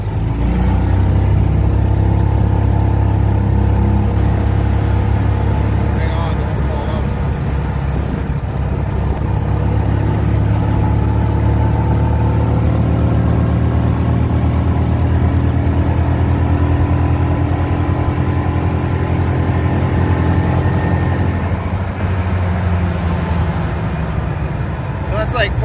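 A Club Car DS FE290 golf cart on stock gears cruises at about 26 mph, its gas engine giving a steady, close drone that shifts pitch slightly with throttle, while someone talks over it throughout.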